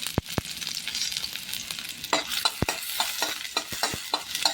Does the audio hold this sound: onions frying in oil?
yes